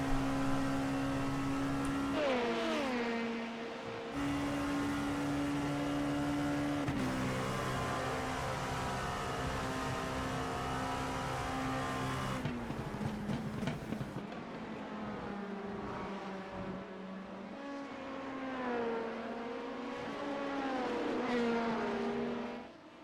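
LMP2 prototype race car in a racing video game: a sustained high-pitched engine whine rises and falls through gear changes and revs, with other cars' engines blending in during a race, steady and fairly even in level throughout.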